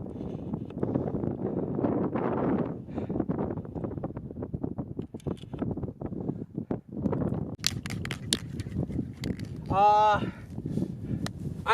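Strong wind buffets the microphone on a mountain top during a hike, gusting and roaring in uneven surges while a person talks over it.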